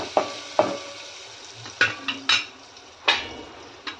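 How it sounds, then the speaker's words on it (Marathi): A spoon stirs jowar ambil with turmeric in a pan, giving a series of sharp clinks and scrapes against the metal at uneven intervals, close and fairly quiet, with no voices. "आता याला व्यवस्थित मिक्स करून घेऊया."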